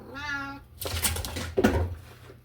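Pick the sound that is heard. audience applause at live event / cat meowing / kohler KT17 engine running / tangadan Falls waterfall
cat meowing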